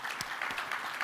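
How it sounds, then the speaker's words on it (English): An audience claps at a plenary session of an arts leadership meeting, a brief, steady patter of applause with no voices over it. "Can you please join me in giving them a round of applause?"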